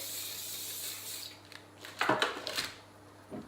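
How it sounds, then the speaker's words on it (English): A short hissing burst of olive oil spray onto sweet potato, followed by light clinks and clatter of kitchen items being handled. "Get our olive oil. Give it a spray."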